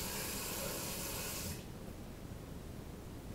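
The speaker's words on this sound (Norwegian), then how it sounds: "Og så vasker jeg med samme vann igjen." Water runs steadily from a tap into a bathroom sink during face washing, a loud, close rush that stops abruptly after about a second and a half, leaving faint room noise.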